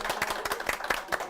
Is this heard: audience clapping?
yes